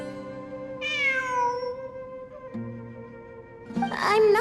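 A cat in Genshin Impact meows clearly twice, once with a long falling cry and again near the end more sharply, set against a quiet sustained tonal backdrop.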